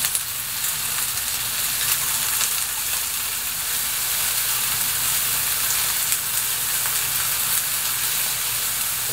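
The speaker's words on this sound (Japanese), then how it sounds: "返して反対側にも焼き目をつけます" A chicken breast, flipped over in a hot pan, sears on its second side with a loud, even, continuous sizzle close up and no talking.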